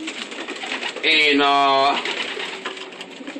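Pigeons coo in a loft of young birds, with one loud, close, drawn-out coo lasting about a second while someone talks around it.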